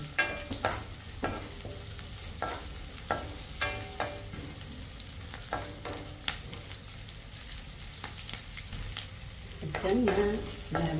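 Garlic sautéing in a pan as it turns light brown, a steady close sizzle broken by repeated clacks and scrapes of a utensil stirring, with the frying swelling louder near the end.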